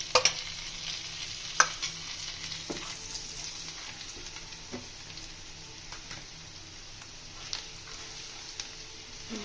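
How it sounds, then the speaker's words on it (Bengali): Chopped onions fry and sizzle steadily in hot oil with cumin and a little turmeric for a Bengali mustard-poppy fish curry, a continuous close crackle with occasional stirring clicks. "পেঁয়াজগুলো নরম হওয়া পর্যন্ত একটু ভেজে নেব।"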